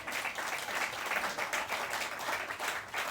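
A crowd applauds at a Tennis Hall of Fame induction ceremony, a steady wash of dense clapping that continues evenly throughout, heard from a distance at moderate volume.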